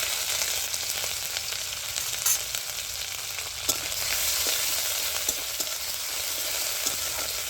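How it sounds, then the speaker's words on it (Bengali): Crushed ginger and green chili fry in hot oil with panch phoron for a samosa filling, giving a loud, steady close-up sizzle with occasional scraping stir clicks and no talking. "তো দিচ্ছি থেতো করে রাখা আদা আর কাঁচা লঙ্কাটা।"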